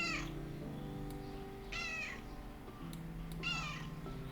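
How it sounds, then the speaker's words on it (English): Pumpkin, a cat in Minecraft, gives three short meows spaced apart, each a brief wavering cry over a quiet background hum. "My cat Pumpkin."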